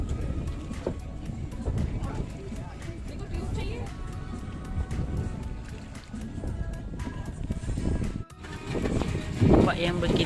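Small boat pitching on strong open-sea waves off Gili Trawangan, Lombok, with steady engine and water wash, wind buffeting the microphone and people talking over it throughout.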